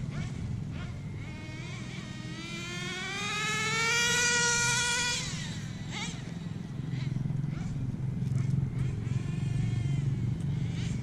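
HPI Bounty Hunter RC monster truck on a 3S battery running past with a high, rising motor whine that peaks and shifts to second gear, then fades, with voices talking around it.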